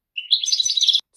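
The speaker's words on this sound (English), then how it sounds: "Goldfinch." A goldfinch sings a quick, bright twittering phrase of rapid high chirps, about one second long, close and clear with no talk.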